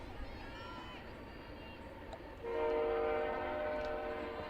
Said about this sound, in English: you can hear that train everywhere through Yeah. town.